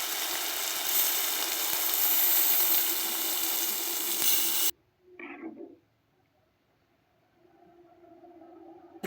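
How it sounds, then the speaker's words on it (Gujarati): Water poured into hot oily gravy for a mung dal vada curry: a loud, steady sizzle and hiss that cuts off abruptly, followed by a brief bubbling burst and then quiet simmering. "આપણે થોડું પાણી એડ કરીશું અંદર"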